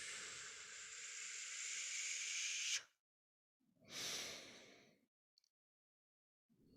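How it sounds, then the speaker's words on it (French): Slow, conscious breaths out during a relaxation exercise, a long soft airy exhale followed by a shorter one after a pause, close and quiet against silence. "Et je souffle, j'augmente ma respiration,"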